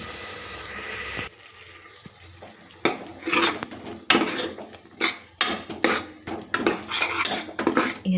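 Mint-coriander paste frying with onions in a pan, a steady sizzle broken by repeated scraping strokes of a metal spoon against the pan, close and fairly loud, with a quieter stretch early on.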